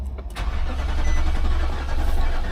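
A 2015 Infiniti QX80 with a no-crank, no-start fault cranking and catching, its engine settling into a loud, close, rough idle with a steady low rumble and no voices.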